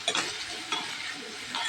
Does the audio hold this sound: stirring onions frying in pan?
yes